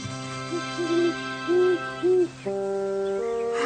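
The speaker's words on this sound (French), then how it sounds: "Le gros hibou habitait le creux d'un arbre centenaire." Owl hooting in a French children's story soundtrack: several soft, rounded hoots in a slow irregular series over sustained musical tones, fairly clear and close.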